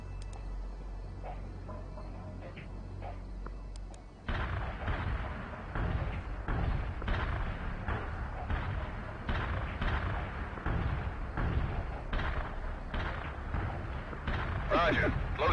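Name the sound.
heavy artillery barrage in the video game World in Conflict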